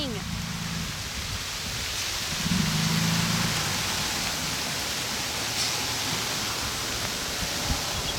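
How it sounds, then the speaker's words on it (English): Steady rain falls outdoors beside a driveway while a bus is backed into it, a constant broad hiss throughout the clip, with a low engine hum and faint voices underneath. "Ah, it's raining."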